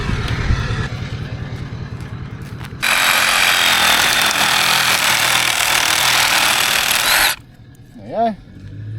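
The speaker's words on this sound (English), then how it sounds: "New purchase. Milwaukee saw." New Milwaukee cordless saw cutting, a loud steady high buzzing burst of about four and a half seconds that stops sharply, preceded by engine-like rumble and followed by a short voice sound.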